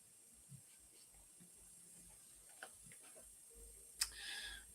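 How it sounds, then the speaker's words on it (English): A timer ticks steadily and faintly through a quiet room, with soft scattered noises and a brief sharp hiss near the end. "something about a timer ticking down is just inherently I don't know, pressurized in some way"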